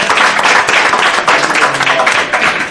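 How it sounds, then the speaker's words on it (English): Audience applause at a Comrades Marathon send-off event, a loud, dense burst of clapping from a close crowd that keeps going steadily throughout. "I think you deserve a big round of applause."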